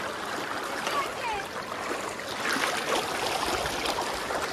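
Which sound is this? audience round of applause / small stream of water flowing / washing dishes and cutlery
small stream of water flowing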